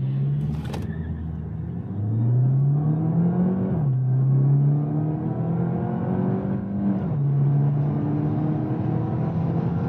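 A 2022 Peugeot 508 GT with the 1.6 PureTech 225 hp engine and EAT8 automatic launches from a brake-held start to 100 km/h, the engine note climbing loudly through three rising gear pulls with brief dips at each shift.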